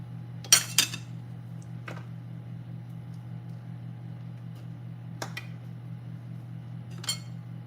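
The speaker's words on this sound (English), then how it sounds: "Take your knife, level it out." A knife levelling flour in a measuring cup for homemade molten lava cake gives a few sharp, close clinks and taps, spaced apart, over a faint steady background hum.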